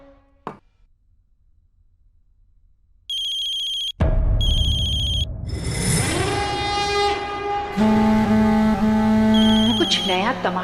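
A phone ringtone chimes in two short bursts, then a louder melodic tone plays on over a steady rumbling background, fairly close.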